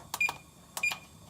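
Two short pairs of electronic beeps from a kitchen timer being set for ten minutes while chocolate chip cookies bake, each press giving a quick double chirp, close and fairly quiet with no talking.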